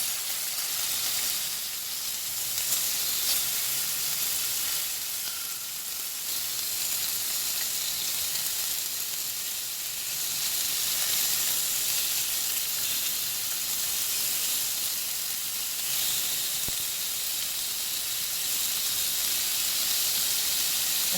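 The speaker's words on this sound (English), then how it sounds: "So I'm frying it in butter." Chicken pieces, salted and peppered, sizzle steadily in butter in a pan on a van stove at Fortuna Pond, a continuous close hiss and crackle with no pauses.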